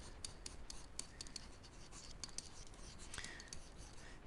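A pen drawing a mauve function graph for a maths lesson, heard as a steady close scratching and rubbing across a surface with brief tapping strokes throughout, under a constant faint hiss.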